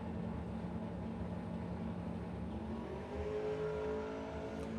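Heads-up drag race car at a strip event launching hard, a loud sustained engine roar with rising harmonics as it pulls away down the track, dense and continuous with no talk.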